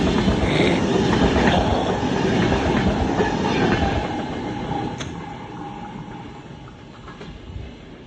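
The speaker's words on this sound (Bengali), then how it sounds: "এই একটা ট্রেন যাচ্ছে" A high-speed train rushes past a station in Genoa, Italy, with a loud, steady roar that gradually fades, with faint rail clatter and a brief squeal near the end.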